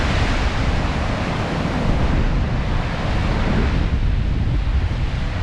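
Atlantic Ocean surf pounding the rocks at Hartland Quay, a constant loud roar of breaking waves and wash with heavy wind buffeting, with no quieter gap anywhere in it.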